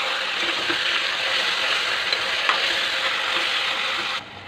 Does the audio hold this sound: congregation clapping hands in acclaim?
no